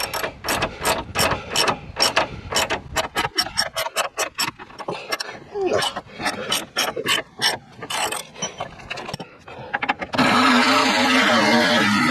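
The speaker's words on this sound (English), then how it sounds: "it was difficult to get on and actually get any leverage to get it undone" A hand ratchet clicks in quick bursts while undoing a seized, twisted bolt on a Ford Fiesta, rapid rhythmic pawl clatter up close with brief pauses, followed at the end by a steady whirring rush.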